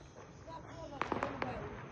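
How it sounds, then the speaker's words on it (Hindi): Distant fireworks pop and crackle in a quick cluster of sharp bangs, faint against background noise and murmured talk. "सामने आप जाके आतिशबाजी शुरू हुई है।"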